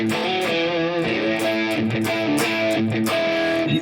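Electric guitar played through its bridge and middle hum-canceling pickups, a slightly overdriven rhythm tone with ringing chords and picked notes, steady and loud throughout with no talking.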